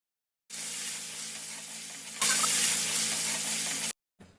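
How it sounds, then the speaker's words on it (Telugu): A tempering of dried chillies, urad dal, cumin and curry leaves hits hot oil. It gives a steady loud sizzle that flares brighter partway through, then cuts off abruptly before a brief final hiss. "ఇప్పుడు పోపుని వేస్తున్నాను చూడండి"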